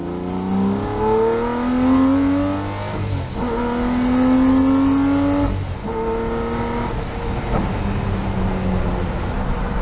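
A Lamborghini Murcielago accelerating hard in second gear on a test drive, its loud engine note climbing steadily in pitch through two long pulls with brief dips between them, close and with no talking.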